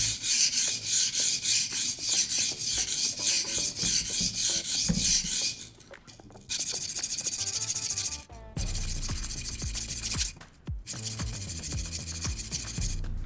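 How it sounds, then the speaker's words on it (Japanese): A chipped knife blade rasps back and forth across a whetstone in a steady, coarse rhythmic grind, close and gritty, pausing briefly before resuming with longer, smoother strokes. "結構荒い音が好きなんで、ガリガリ削ってる感じの。"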